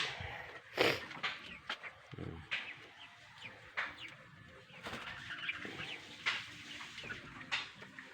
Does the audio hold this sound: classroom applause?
no